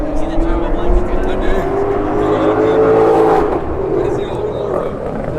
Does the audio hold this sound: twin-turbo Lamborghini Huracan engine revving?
yes